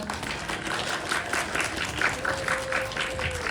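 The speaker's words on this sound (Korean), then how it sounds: "여러분 큰 박수 부탁드립니다." Audience clapping at a film festival screening Q&A, welcoming a debut feature animation director; moderate, continuous applause with a faint tonal hum and murmurs underneath.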